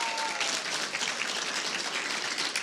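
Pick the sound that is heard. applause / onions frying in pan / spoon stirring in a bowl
applause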